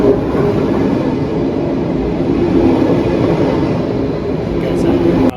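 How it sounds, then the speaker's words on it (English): A train at Bern station in Switzerland gives a loud, steady rumble and rush of rolling carriages, close by and continuous, with voices faintly mixed in. "I finally got on my train, the last leg from Bern to Geneva"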